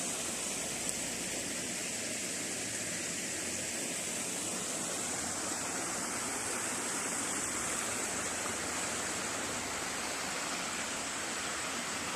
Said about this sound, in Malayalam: നമ്മളെ അയലോക്കത്തിലൊരു തോടാ കാണിക്കാൻ പോകണം